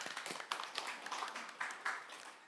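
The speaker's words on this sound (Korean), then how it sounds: "박수 부탁드립니다" Audience at a mock public hearing on nuclear power issues with local residents in Gijang gives a brief round of clapping, a quiet scattering of hand claps with uneven rhythm lasting a few seconds.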